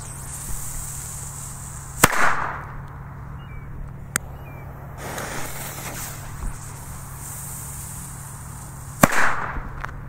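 Pyrocracker firecrackers explode outdoors, giving two loud, sharp bangs several seconds apart, each followed by a short echoing rumble, with a fainter pop and some low background noise between them.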